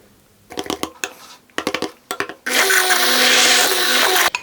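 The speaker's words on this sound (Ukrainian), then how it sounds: "пробиваємо цю масу занурювальним блендером до однорідності" A few short bursts of knocking and whirring, then a loud, steady immersion blender buzz runs for about two seconds through a cream soufflé mixture before cutting off.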